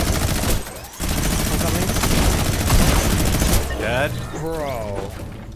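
Two miniguns firing together in a video game, a loud continuous whirring barrage with a brief break early on, then voices talking excitedly over the roar near the end.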